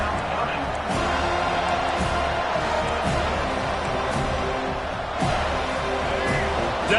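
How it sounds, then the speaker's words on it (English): A college football stadium crowd roars steadily during a third-down defensive stand in a video game, a dense, loud, continuous wall of cheering with rhythmic thumps beneath, while a commentator talks over it. "Decibels rising as the crowd gets behind this defense on third down."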